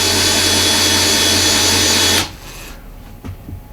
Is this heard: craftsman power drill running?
yes